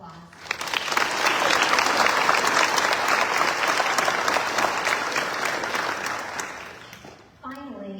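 An audience at the Fort Cavazos Family Scholarship Award Ceremony applauds in a dense, sustained burst that builds quickly and holds before tapering off, then a speaker's voice resumes.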